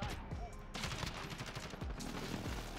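Rapid automatic gunfire in Call of Duty Modern Warfare multiplayer with a Kilo 141 rifle, sustained bursts of shots with sharp hit marker ticks, dense and continuous throughout with faint background game sounds.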